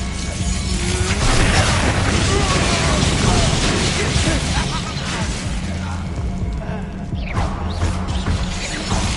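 Confringo spell explosions in the Hogwarts Legacy video game, a loud, chaotic run of blasts, crashes and mechanical clatter during combat, with voices talking over the noise.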